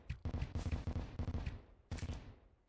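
Hellfire arrows explode in Terraria in rapid bursts: a fast string of sharp, booming blasts, then a short pause and another cluster of explosions trailing off.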